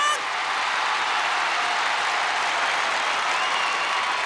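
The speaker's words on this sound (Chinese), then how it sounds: "朋友们掌声呐喊声" A stage gala crowd claps hard and continuously as a performer is called on, the applause thick, loud and unbroken from start to finish with no voices standing out.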